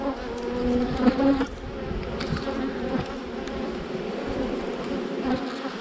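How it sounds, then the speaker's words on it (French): A swarm of bees buzzes steadily and close in a garrigue setting, a dense continuous drone with individual insects flitting past and no speech. "quand tu récupères un essaim, fais gaffe, hein"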